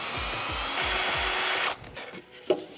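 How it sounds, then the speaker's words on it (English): A power drill whirs up close as it backs screws out of the door sills of a 1958 Chevrolet Impala, one steady high spin, then it stops and a few clicks and knocks follow. "I'm gonna grab the drill and remove this one."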